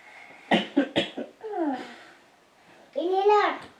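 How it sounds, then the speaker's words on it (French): A sick person coughs a few times in quick succession, close and fairly loud, followed by short bursts of talking and vocal sounds. "Je tousse."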